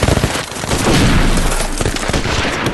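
Dense, loud gunfire crackles in a WWI reenactment of the Somme, rifle shots mixed with rapid bursts from a Maxim machine gun, continuous and close with booming undertones.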